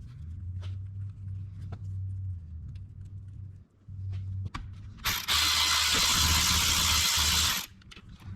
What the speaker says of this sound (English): Now we'll try to sneak our bolts in.